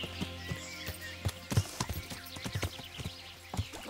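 A horse's hooves clip-clop unevenly in the game Kingdom Come: Deliverance, a stumbling sequence of close, sharp knocks over a faint tonal background.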